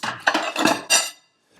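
Plates, pots and cutlery clatter and clink in bursts during dishwashing in an apartment kitchen, loud and close, then stopping into near silence at the end.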